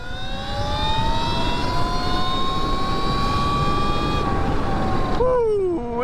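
A Talaria XXX electric dirt bike fitted with an upgraded Surron motor accelerates hard past, its rising electric whine sweeping up over broad rushing noise, then dropping sharply in pitch as it passes close by.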